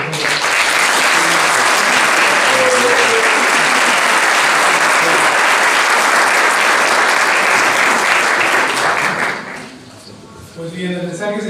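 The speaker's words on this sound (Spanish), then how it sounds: "Yo quiero ponerme de pie y darle un fuerte aplauso a Manuel Alfredo" Loud, sustained applause from a large audience at a ceremony honoring philanthropic work, a dense steady roar of clapping that fades toward the end as voices start to come through.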